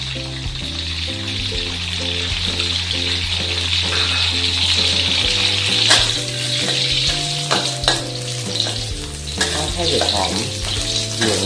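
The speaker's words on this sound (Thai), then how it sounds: "เรามาทอดเห็ดหอมกันต่อนะครับ ใส่เห็ดหอมไปเลยนะครับ" Shiitake mushrooms fry in a hot pan with a loud, continuous sizzle, steady throughout with occasional stirring scrapes and clinks, close and without talk.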